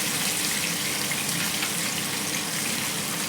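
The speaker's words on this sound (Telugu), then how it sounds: "పెద్ద పీసెస్ అయితే ఒక్కొక్కటిగా ఫ్రై చేసుకుందాం." Marinated fish pieces fry in a pan with a steady, close hiss and sizzle that continues evenly throughout, with no speech.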